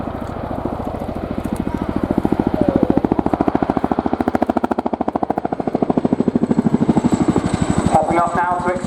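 A Chinook tandem-rotor helicopter flies at the RIAT airshow, its heavy blades thudding in a fast, even chop that stays loud and close throughout, while an announcer talks over the public address.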